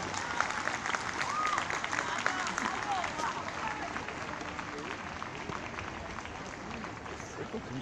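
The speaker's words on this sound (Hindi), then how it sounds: "जोर से तालियां इन बच्चों के लिए बजाएं" Audience applauding loudly for a children's performance at an event, steady dense clapping throughout with crowd noise and some voices underneath.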